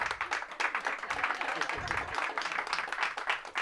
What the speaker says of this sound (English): let's give Chris a round of applause